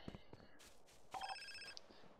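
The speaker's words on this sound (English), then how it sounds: "Maybe not, I got a phone call." A phone ringing in the game GTA San Andreas, a short electronic ring with a few bright tones heard faintly after some soft knocks and clicks.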